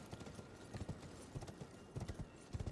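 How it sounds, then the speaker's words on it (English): Horse hooves clip-clop in a quick, steady rhythm in the video game Elden Ring, close and fairly quiet, with short gallop-like clusters of thuds and no talking. "Let me get my horse back out."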